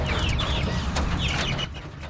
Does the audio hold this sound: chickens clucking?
yes